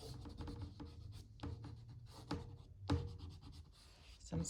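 A pencil eraser rubbing sketchy lines off a drawing on paper: close, faint scratchy strokes in short uneven bursts, with a few louder scrubs.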